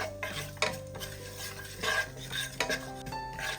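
Cumin seeds roasting in a pan, stirred with a metal spoon that scrapes and clinks against the pan over a soft sizzle, the strokes irregular and close.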